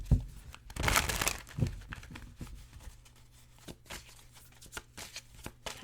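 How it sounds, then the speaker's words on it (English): Tarot oracle cards shuffled by hand, with crisp riffling and crinkling bursts that are loudest early on, then lighter card flicks and taps that continue at a steadier, quieter level. "Now we are going to shuffle the cards for pile number 1."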